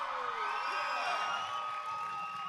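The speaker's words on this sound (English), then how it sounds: "That's why you can hear the screams of the people every time" Roller derby crowd of over a thousand at the Battledrome during the Sun State vs Paradise City grand final, a steady dense roar of screams and cheering that holds loud and continuous throughout.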